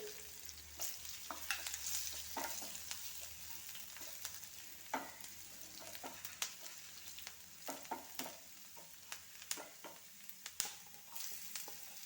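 Ginger and garlic crackle softly in hot oil while a spoon scrapes and taps the pan in frequent sharp clicks.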